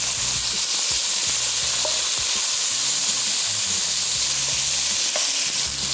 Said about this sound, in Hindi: चिकन को भी तेज़ आंच पे सबसे पहले फ्राई करना है।